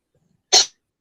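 A single sharp sneeze bursts out close and loud, preceded by a faint breath, then silence.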